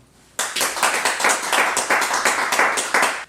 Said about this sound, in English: Please give all the sponsors and yourselves a round of applause for their support of this event